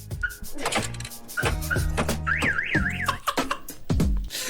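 A car alarm blares nearby, cycling through rising and falling warbling siren tones and sharp chirps, loud and alone.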